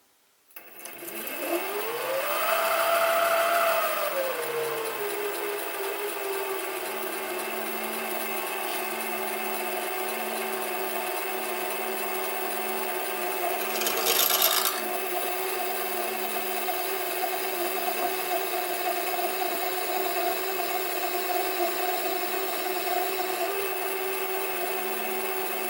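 Metal lathe turning a crankshaft bearing part for a Stuart 10V model steam engine at about 600 RPM with tapping fluid applied, a steady machine hum that ramps up at the start, with a brief sharp burst midway.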